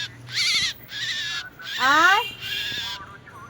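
Several birds call around a fallen bird near an electric wire outdoors, loud harsh cries in repeated bursts with a rising squeal in the middle, while a person speaks briefly over them.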